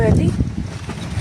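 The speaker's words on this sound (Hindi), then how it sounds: "ये तो ज़बरदस्त हवा चल रही है" Strong wind buffets the microphone outdoors in a steady low rumble, with a person's voice faintly present at the start.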